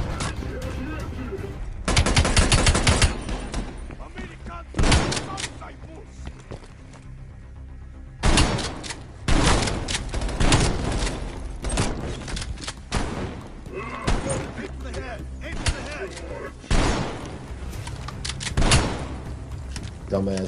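Gunfire bursts sound in a Call of Duty Black Ops Cold War campaign mission: several loud clusters of rapid automatic shots and booms, separated by quieter stretches, with someone talking over parts of it.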